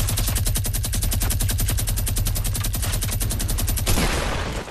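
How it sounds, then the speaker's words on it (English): Rapid, sustained machine gun fire in Fortnite, a dense stream of evenly spaced shots at close range that runs nearly four seconds before breaking off into a short noisy tail. "point blank, point blank with the freaking death machine gun"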